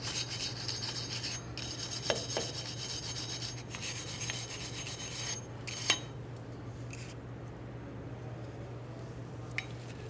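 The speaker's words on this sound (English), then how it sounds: "For this, you can use a wire brush. Some parts cleaner here, and a quick scrub." Wire brush scrubbing the wheel bearing hub surface on a 1994-2001 Dodge Ram 1500 front brake job, continuous rasping scratches over a steady low hum, close and moderately quiet.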